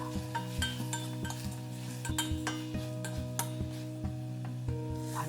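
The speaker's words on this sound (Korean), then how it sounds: "후추 약간 뿌려서 잘 섞어줍니다." Aged kimchi with sesame oil and pepper is stirred in a pan, a utensil scraping and knocking against the cookware in a steady series of clicks and taps over a faint sizzle.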